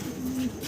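A single brief, low coo from pigeons at a wholesale pigeon seller's stall sits against a soft background murmur.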